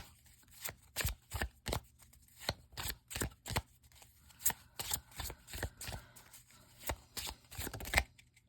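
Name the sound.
shuffling tarot cards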